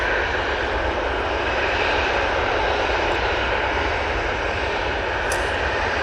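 A Lauda airliner takes off from Manchester Airport bound for Vienna, its jet engines a loud, steady broadband roar that fills the whole stretch without letup.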